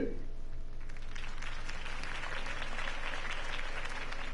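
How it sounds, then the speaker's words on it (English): Steady crowd applause rolls on after a campaign speech for Harvey Dent in the Batman Telltale video game, a dense, even clapping wash throughout. "If only Mr. Wayne, my campaign's largest backer, could have heard that applause"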